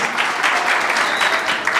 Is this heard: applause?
yes